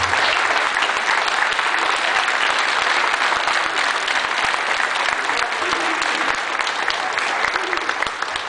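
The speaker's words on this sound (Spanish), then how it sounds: "Nos despedimos. Con un aplauso." A crowd at an outdoor flag-honouring ceremony in Delicias claps in sustained, dense applause lasting several seconds, steady and fairly loud throughout.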